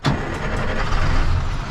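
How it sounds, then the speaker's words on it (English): A truck with a manual transmission starts during a Class A air brake check, its engine catching with a quick onset and then running as a steady, loud, close rumble. "Start the truck."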